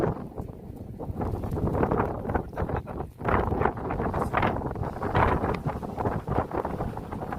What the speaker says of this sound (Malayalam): നല്ല കാറ്റാണ് കേട്ടോ.